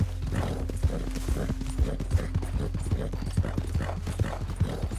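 Hooves of a horse in Red Dead Redemption II, a mare in rough condition, clip-clop in a steady trotting rhythm, close and moderately loud over a low game ambience.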